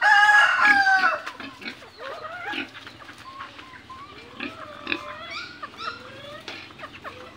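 A rooster crows loudly up close on a farm, followed by scattered clucks and calls from other fowl, with a steady low hum underneath.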